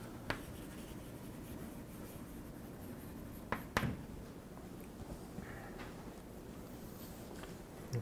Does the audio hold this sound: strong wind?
no